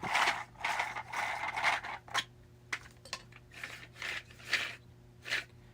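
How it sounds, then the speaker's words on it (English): A supercharger blower is turned by hand, giving a series of faint ratcheting clicks and mechanical whirs in irregular bursts, close and quiet, with a short gap partway through. "Sorry, I'm playing with the blower real quick."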